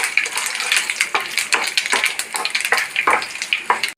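Curry leaves and spices frying in a hot pan for carrot rasam, a steady close sizzle with repeated bursts of crackling and spitting, no talk over it.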